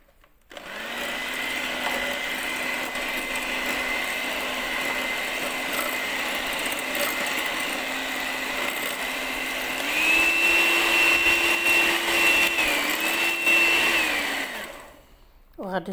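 An electric mixer whisks sugar-free chocolate cake batter, a steady close whirring hum that holds one pitch, then rises to a higher speed for the last few seconds before cutting off.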